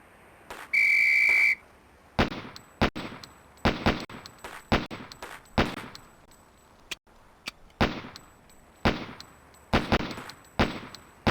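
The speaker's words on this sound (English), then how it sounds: "On the whistle." A firing range in the video game Police Quest: SWAT: a short sharp whistle blast opens, then a string of crisp, irregularly spaced gunshots cracks out, each with a brief metallic ring, loud and close.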